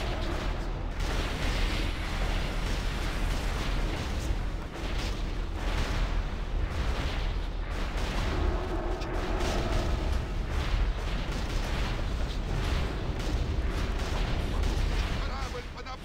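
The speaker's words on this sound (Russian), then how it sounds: "Корабль под обстрелом!" Heavy booming cannon fire and explosions on a ship in a video game roll on continuously, with battle noise and shouting voices mixed in throughout.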